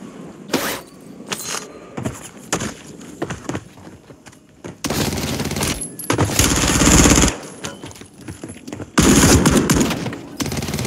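Shotgun blasts in a shooter video game: several sharp, scattered shots, then loud sustained bursts of heavy gunfire in two long stretches, with mechanical clatter between them.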